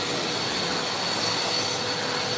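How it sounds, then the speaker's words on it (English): A workshop vacuum pulls up dust while boomerangs are made, giving a steady, loud broadband rushing hiss with an even roar throughout and no talk. "It's vacuuming all the dust."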